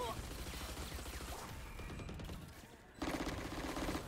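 Gunfire in Valorant, with rapid bursts of shots and mechanical clatter under excited voices of players talking, ending in a louder rattling volley.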